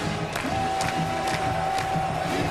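A large stadium crowd at a 2012 South Carolina versus Georgia college football game roars and cheers steadily in the background, with a few sharper claps or shouts rising through the sustained din.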